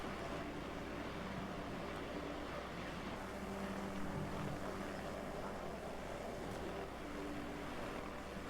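A helicopter in the video game DayZ holds a steady, loud engine and rotor drone with no break, with no voices over it.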